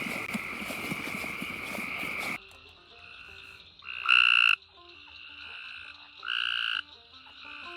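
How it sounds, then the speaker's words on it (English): A Cope's gray tree frog gives a loud, fast trilling call in bursts, with quieter trills between, following a stretch of louder hissing noise. "This is a Cope's gray tree frog, one of the species that we study in our lab."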